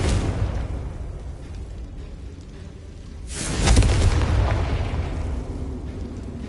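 A Confringo fire spell explodes in the Hogwarts Legacy video game, a loud, swelling blast that rises suddenly out of low rumbling ambience and then rolls off into a sustained roar.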